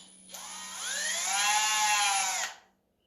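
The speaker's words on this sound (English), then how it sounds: "you're going to take your drill, put your drill bit in" A power drill bores a hole in wood for a homemade step stool, its motor whining steadily and rising in pitch for about two seconds before cutting off, close and alone.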